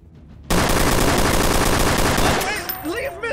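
Rapid automatic gunfire in the online game Trouble in Terrorist Town, a loud dense burst lasting about two seconds that cuts off abruptly, followed by quieter scattered game sounds.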